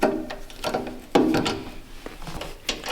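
A ratchet tightens fasteners on a Lifeline fire suppression system being fitted to a sprint car, giving close, quick bursts of clicking with brief pauses between turns.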